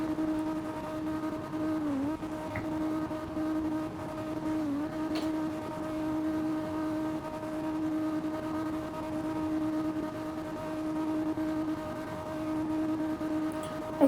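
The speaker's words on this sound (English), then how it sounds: "I'm just gonna hold a drift for as long as possible." A car in the CarX Drift Racing video game holds a long drift, its engine sustaining a steady, constant tone with slight pitch dips, continuous and unbroken with no talking.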